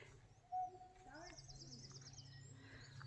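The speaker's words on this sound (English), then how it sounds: "Have you heard the sound of the birds?" Birds sing outdoors in fresh morning air, faint chirps and a quick trilling run over a low background hum, with one brief sharp whistle near the start.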